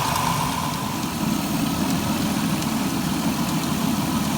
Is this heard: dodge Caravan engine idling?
yes